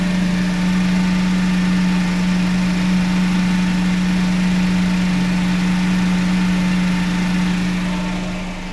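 A Suzuki Spacia Custom Z hybrid engine idles steadily up close, with a constant low hum and a faint mechanical whir running evenly throughout without any revving.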